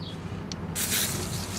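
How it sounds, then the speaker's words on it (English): PB Blaster penetrating oil sprayed from an aerosol can onto the lug nuts of a Mazda 626 wheel, a steady close hiss that starts after a short pause and keeps going, with no talking. "Spray lug nuts with some PB blaster."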